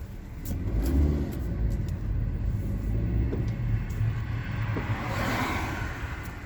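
A sports car's engine rumbles loud and close while it pulls in to park beside a church, a steady low growl that swells briefly and then settles.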